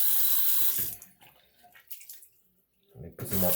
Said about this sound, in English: I'm gonna put some cold water on my brush.